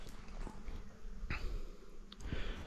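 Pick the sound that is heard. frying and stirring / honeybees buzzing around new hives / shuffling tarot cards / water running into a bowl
honeybees buzzing around new hives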